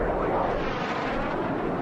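Jet race airplane in the Jet Class Gold race at the 2022 Reno Air Races, including a red race plane, number 29, roaring past as a loud, sustained engine rush with no speech.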